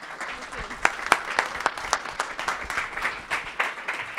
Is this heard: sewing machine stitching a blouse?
no